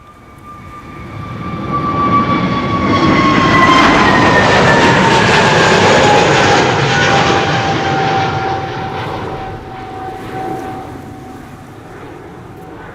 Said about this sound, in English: This is Transavia flight 6943, an A321neo going to Skopje.